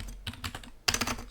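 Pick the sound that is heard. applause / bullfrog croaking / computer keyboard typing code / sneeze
computer keyboard typing code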